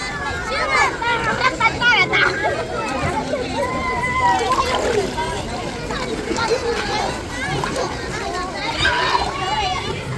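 Swimmers in a pool with children playing nearby: continuous splashing and sloshing water under lively chatter and children's voices, with people talking throughout.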